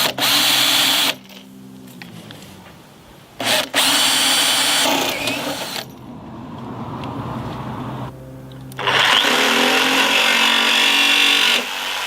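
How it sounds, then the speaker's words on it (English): A 10mm step drill cuts a hole in a van door in three loud bursts of high whirring, separated by quieter pauses with faint background noise. "if I use the 10mm step drill to get this half circle here"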